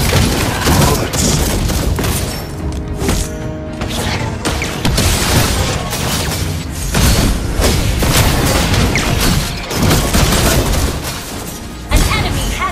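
Gunfire and heavy booming impacts from a Mobile Legends battle, loud and dense for the whole stretch, with crashes and thuds layered over a steady wash of game effects.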